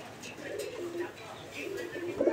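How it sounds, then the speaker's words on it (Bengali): Pigeons on a pigeon farm cooing softly in low, rolling murmurs, several coos overlapping close by under a voice talking. "এই মুহূর্তে আমরা দেখতে পাচ্ছি আরও এক জোড়া কবুতরের কালেকশন রয়েছে এখানে"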